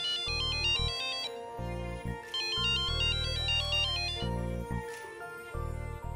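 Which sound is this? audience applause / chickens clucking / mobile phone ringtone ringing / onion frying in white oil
mobile phone ringtone ringing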